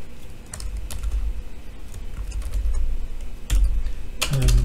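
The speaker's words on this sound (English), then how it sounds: "type the name of your database" Someone types a database name on a computer keyboard, sparse, fairly close keystrokes with a few sharper clicks and taps over a steady low room hum, with no speech.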